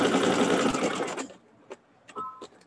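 A sewing machine stitches seams in a steady fast whir for just over a second, then stops, leaving a few faint clicks and small handling noises nearby.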